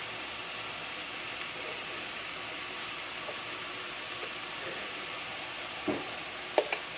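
Flour cooks in a pan with browned, drained ground beef, giving a soft, steady sizzle and hiss close by, with a few faint clinks of stirring near the end.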